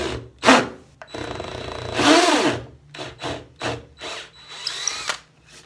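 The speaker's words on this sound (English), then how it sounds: "So we drill through, and we drill to a depth of 20 millimetres." Power drill boring a horizontal hole 20 mm deep into a wooden blank in a beginner woodturning workshop; several short whirring bursts start and stop in an irregular rhythm, close and fairly loud, with no talking.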